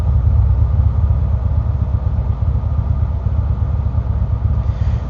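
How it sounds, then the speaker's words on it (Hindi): A heavy motorcycle idles loudly right beside a car in traffic in Saskatoon, Canada, its deep, rapid, throbbing engine pulse holding steady and unbroken throughout. "मेरे साथ आके एक मोटरसाइकिल वाला, हैवी बाइक वाला खड़ा हुआ और बहुत भड़ भड़ भड़ भड़, तो उसका बहुत ज़्यादा साउंड होता है।"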